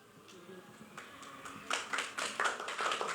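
Audience applause at a panel discussion event for the National Day of Mexican Sign Language, building from scattered claps into a steady, moderately loud round of clapping.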